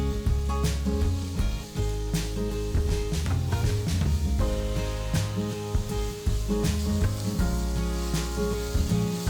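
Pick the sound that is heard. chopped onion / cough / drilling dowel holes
chopped onion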